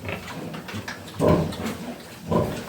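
Low, rough sow grunts arrive in two louder bursts amid quieter snuffling, fairly close by, with no talking.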